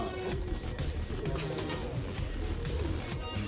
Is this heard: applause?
no